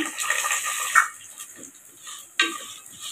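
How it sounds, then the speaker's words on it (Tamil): Two cups of water poured into a pan of sautéed chana dal, cashews, almonds and raisins for a sweet jaggery and milk nut pasta, a short splashing sizzle with a couple of sharper bursts, close and moderately loud. "இந்த கப்பில் 2 கப்பு தண்ணி சேர்த்துக்கலாம்."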